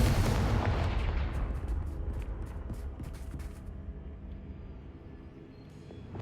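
Heavy blasts from the Confringo spell in Hogwarts Legacy boom loudly at the start, then a crackling rumble trails off and thins toward near-silence, with a few sharp snaps along the way.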